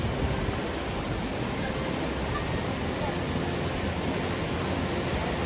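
Twin Falls waterfall on a hot day, giving a constant, even, close-up roar of falling water with no pauses or breaks.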